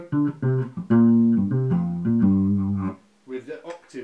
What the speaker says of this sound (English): Okay, so my clean signal sounds like this